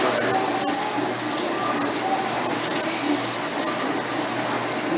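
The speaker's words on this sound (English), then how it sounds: "Wash my hands off." Water running steadily from a kitchen tap during handwashing, a close continuous hiss and splash with slight variations as hands move under the stream, over a low hum.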